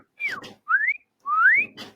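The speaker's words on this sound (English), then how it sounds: "Stop whistling at me." Someone whistles three short rising and falling notes with gaps between them, fairly close and clear, with faint rustling underneath.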